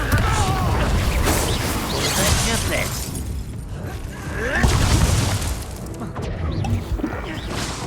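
In the game Hogwarts Legacy, a Confringo explosion spell bursts with a loud, booming crash amid dense combat noise, followed by further rumbling blasts and debris clatter, with a character's voice calling out.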